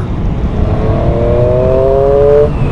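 Close and loud, a Triumph 765 Street Triple R motorcycle pulls in fourth gear, its engine tone rising smoothly for a couple of seconds before easing off, with no voices.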